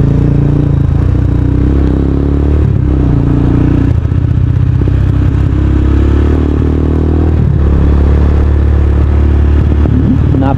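Motorcycle ridden along a road near Magon Eco Park and Bangar, with a loud, steady engine drone and rough wind buffeting close to the mic, its pitch rising and falling slightly with no talk.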